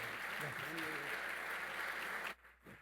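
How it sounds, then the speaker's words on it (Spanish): An audience at a business conference gives a speaker sustained applause, broad and even, before it cuts off sharply near the end, leaving a brief voice at a microphone. "Damos un fuerte aplauso a Diego Bernardini."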